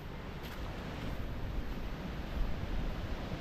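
Small sea waves wash steadily along a shore, a continuous broad rushing surf with some wind buffeting the microphone, no voices over it.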